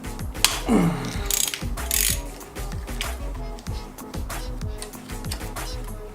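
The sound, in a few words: loosening RB25 oil pump part with Allen key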